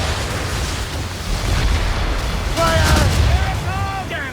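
Mortar fire in Assassin's Creed Rogue rumbles in deep booms under shouted commands and voices during a ship battle.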